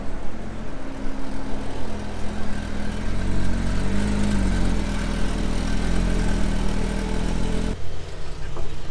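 Engine of a blue Porsche 992 GT3 driving past on a Monaco street, a loud, steady mid-pitched drone that builds and swells as the car nears, then drops away sharply near the end.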